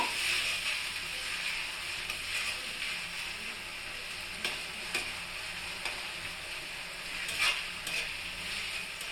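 Onion paste with garlic paste fries in a pan for Bengali egg curry and is stirred, giving a soft, continuous sizzle. A few sharp scrapes or taps of the spoon against the pan stand out, and no one speaks.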